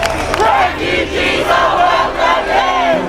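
Counter-demonstrators gather in a London suburb, their loud crowd noise rising in repeated waves of massed shouting and cheering close by.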